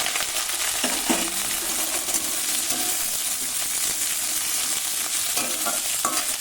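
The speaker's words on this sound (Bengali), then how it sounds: "আলুগুলো একটু ভালো করে লাল করে ভেজে নিতে হবে।" Potato pieces frying in hot oil with bay leaf and black cumin, giving a dense, steady sizzle close by with occasional light utensil clinks and scrapes, no voices.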